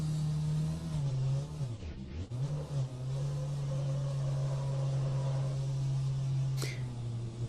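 Race car engine heard from inside the cockpit in rFactor, a steady droning hum with a brief dip and recovery in revs, fairly subdued.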